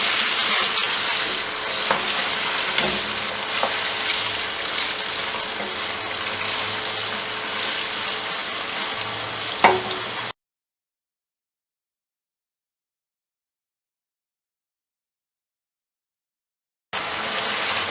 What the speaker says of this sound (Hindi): इसको चिकन के साथ ही अच्छी तरीके से फ्राई कर लेंगे